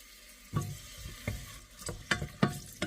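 Onion hitting a little oil in a casserole for a creamy turkey and vegetable pasta gives a soft, quiet sizzle broken by several distinct scrapes and clacks of stirring, close by and irregular.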